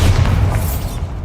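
A Bombarda blasting spell goes off in Hogwarts Legacy, a loud, deep single boom with a heavy low rumble that decays over about a second, with no talking.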